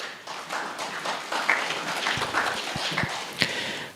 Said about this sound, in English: I think we can clap for him.